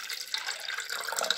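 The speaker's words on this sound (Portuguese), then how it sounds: "Estou colocando a água" Water poured into pancake batter made without milk, a steady splashing pour that runs continuously through the short moment, close and moderately loud.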